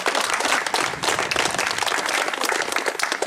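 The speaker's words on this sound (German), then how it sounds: "möchte euch einen kleinen Applaus bitten für den Raimund" Applause from spectators at a bike trial event in St. Veit, South Styria, dense close clapping with individual claps audible through the whole stretch.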